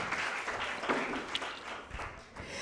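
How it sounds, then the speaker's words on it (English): A moot court competition audience gives a soft, steady patter of clapping as results presenters come forward, distant and even throughout. "Let's give them a round of applause as they come."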